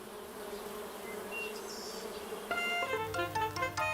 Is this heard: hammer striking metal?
no